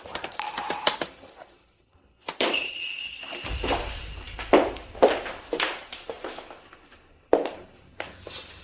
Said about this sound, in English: The computer isn't even on, but he is still typing.